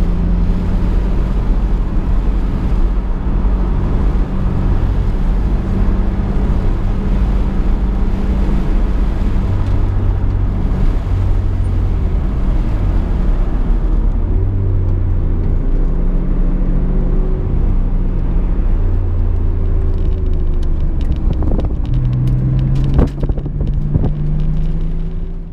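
A car driven hard on a race circuit, its engine droning steadily and rising in pitch through the gears, with loud sustained roar and a brief shift near the end; no talk.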